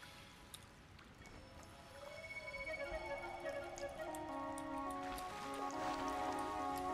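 Rain in Sky: Children of the Light, a soft steady patter that thickens over several seconds, with layered tonal game music drifting over it and a few faint bright drips.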